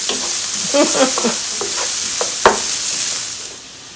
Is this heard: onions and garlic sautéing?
yes